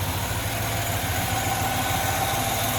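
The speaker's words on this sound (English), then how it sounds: "Now this is the LT1 fuel injected engine there." The fuel-injected LT1 engine in a 1955 Chevrolet 210 Wagon idles steadily and smoothly, a constant close low rumble with an even pulse and no revving.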